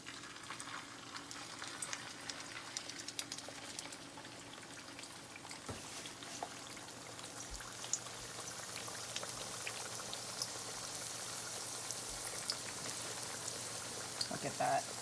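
A scallion pancake fries in very hot oil, giving a faint, steady crackle and sizzle with scattered pops that holds evenly throughout.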